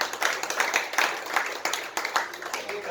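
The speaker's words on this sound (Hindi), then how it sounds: "अगर बात मानते हैं तो जोरदार तालियां।" Audience at a motivational talk clapping in loose rhythmic bursts, moderately loud and close, a scattered group rather than a dense roar.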